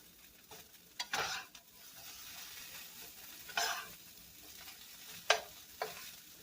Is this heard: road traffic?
no